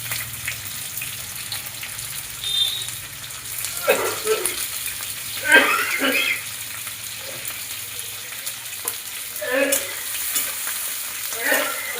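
Onions fry in oil until browned for an egg chilli dish, a steady hiss of sizzling with periodic louder bursts of stirring and scraping, close by.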